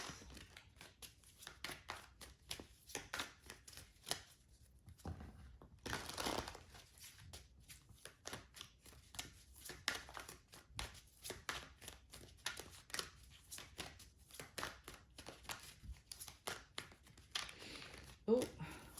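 Tarot cards being shuffled by hand for a reading: soft, rapid riffling and crinkly card flicks in irregular bursts, close up, with occasional quiet speech mixed in.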